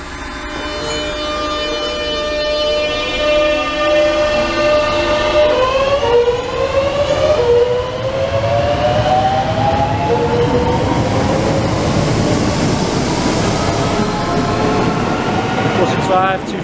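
Two Class 465 electric trains, units 241 and 910 with a 465/9 at the back, pass at Grove Park bound for Charing Cross, a loud sustained rumble with rising and falling motor tones. Someone talks over it.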